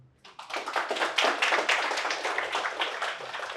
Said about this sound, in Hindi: Can we have a clap for this guy?